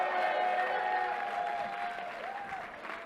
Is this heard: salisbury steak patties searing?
no